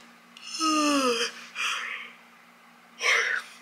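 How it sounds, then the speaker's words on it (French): A long, drawn-out yawn with falling pitch, followed by two breathy exhales or sighs, close and quiet, with no words. "Vous me direz si vous avez baillé en même temps que moi"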